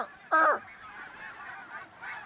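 A person imitates a snow goose call with the mouth, giving one loud, short honk followed by fainter, softer goose-like calls.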